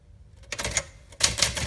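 A 1965 Smith Corona Sterling manual typewriter typing at close range, with a quick run of crisp key strikes and clacks that grows louder toward the end.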